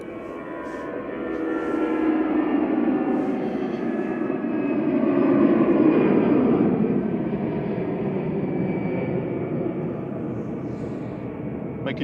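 A 24-year-old Lufthansa Airbus A320 Classic jet at Manchester Airport rumbles past with a broad engine roar and faint whine, building to a peak in the middle before easing, heard without talk.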